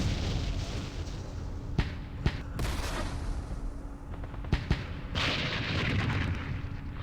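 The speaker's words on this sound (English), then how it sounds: "Damn mortars." Mortar explosions in Campaign Series Vietnam, a Dien Bien Phu battle: several sharp blasts land at irregular intervals over a constant rumbling battlefield bed, moderately loud.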